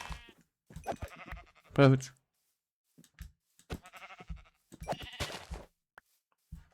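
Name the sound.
sheep bleating in Minecraft video game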